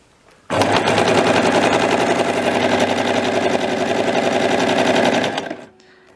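Toyota Jeans sewing machine stitching plastic-coated fabric, running loud and close in a fast, continuous mechanical clatter for about five seconds before stopping abruptly.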